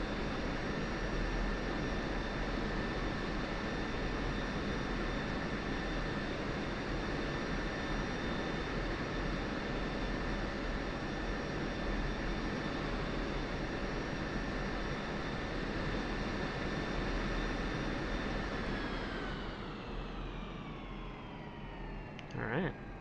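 Military jet idling and taxiing in the flight simulator DCS, a steady loud engine whine and rumble with sustained tonal hum that holds evenly, then drops in pitch and fades as the engine winds down near the end.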